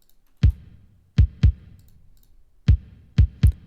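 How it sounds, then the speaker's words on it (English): Electronic kick drum played alone, heavily EQ'd: six punchy, deep thumps in a sparse, uneven pattern, mostly grouped in pairs, each with a sharp click on the attack and a short boomy tail, close and loud with silence between. "So this is how it sounds, the kick on its own"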